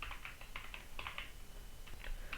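Keys clatter on a computer keyboard in quick uneven bursts of soft clicks, close and fairly quiet over a faint background hiss, with no voices.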